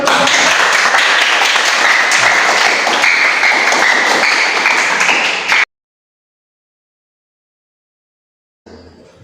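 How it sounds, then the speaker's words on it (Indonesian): Classroom applause for a student group, a dense burst of many hands clapping close and loud for about five seconds, then silence before a faint trailing noise. "terima kasih kelompok 3,"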